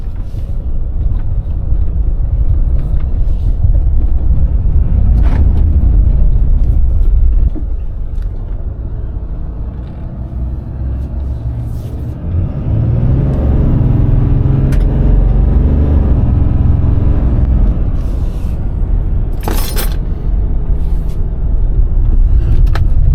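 A 2019 Ram diesel truck with a replaced turbo actuator drives along on a road test, heard from inside as a loud steady rumble of engine and road noise that dips briefly, then surges again with acceleration.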